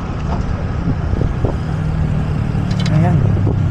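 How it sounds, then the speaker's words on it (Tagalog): Morning road traffic at a busy BGC crossing toward Artigas, with a steady rumble of car and truck engines close by and brief voices and horn-like tones over the continuous drone. "traffic pala dito pag umaga"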